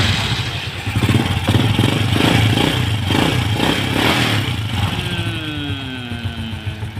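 Honda Supra motorcycle engine, freshly serviced with a cleaned carburettor and new spark plug, catching after a few turns, revving briefly, then settling into a steady close idle.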